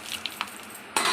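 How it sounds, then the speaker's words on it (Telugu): Dry red chillies fry in hot oil for tomato pappu, with a few soft stirring clicks followed by a sudden burst of crackling sizzle near the end. "ఎండుమిర్చి బాగా ఫ్రై చేసుకోవాలండి."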